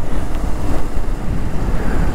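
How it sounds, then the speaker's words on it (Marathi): Wind blowing on a rainy-season roadside, a loud continuous low roar buffeting the microphone without a break. "वारा पण सुटलं रे आता, वारा नव्हता मगाशी, वारा पण सुटलं"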